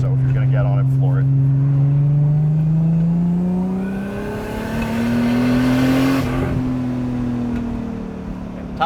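A Nissan Laurel with a swapped RB25 Neo engine and a big single T51R turbo revs up with a rising drone and a strong rush of turbo air, loud and close, then eases back and climbs again.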